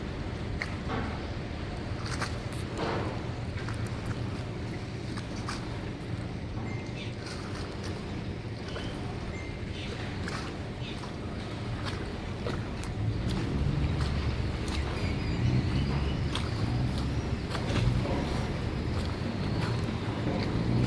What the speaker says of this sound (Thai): นั่นก็เป็นเรือโดยสารครับ มาอีกแล้วอีกลำหนึ่ง